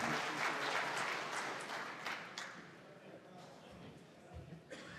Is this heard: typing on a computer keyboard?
no